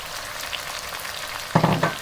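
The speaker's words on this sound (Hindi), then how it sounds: "और इस मसाले के साथ अब हम इसको 3 से 4 मिनट तक फिर भूनेंगे" Potatoes fry with spices in a pan for aloo bhujia, a steady close sizzling hiss with a burst of louder stirring and scraping near the end.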